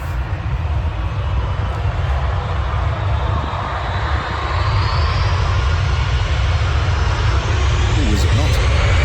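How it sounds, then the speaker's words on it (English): A jet airplane takes off from a nearby runway: loud, steady engine roar rises and fills the air, a broad rushing rumble that builds slightly over several seconds. "They're just rounding now onto that runway, so it's going to get a little bit loud."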